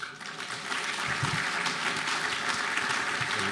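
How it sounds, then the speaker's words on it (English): A crowd at a 70th anniversary commemoration of the Battle of Iwo Jima claps in a thick, sustained wash of applause, loud and steady from start to finish. "give Dustin a big round of applause"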